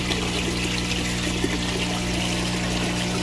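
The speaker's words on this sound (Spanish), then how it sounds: "Por gravedad, como le explicaba, esta agua pasa hasta este filtro." Water flows by gravity into a biological filter of a backyard tilapia recirculating aquaculture system, a steady broadband rushing and trickling wash that stays even and fairly loud throughout, with no voices over it.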